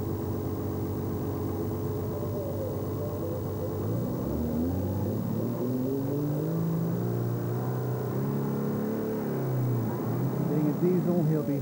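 A diesel pulling tractor at the 2000 Euro Cup tractor pull in Hörby, driven by Niels Damgaard, revs and rolls out as its deep engine drone rises and swells steadily under a commentator's talk.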